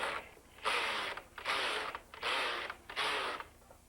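A Brother KH-930 knitting machine knits rows as the carriage is pushed back and forth, four long rasping mechanical sweeps in a steady rhythm with short pauses between them, close and clear.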